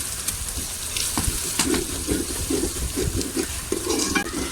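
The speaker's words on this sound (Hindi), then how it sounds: "और अब हम इसे इस तरह फ्राई करेंगे।" Ginger paste sizzles loudly in a hot pan during chicken biryani preparation, with a constant crackling fry broken by repeated scraping stir strokes, close up and without talk.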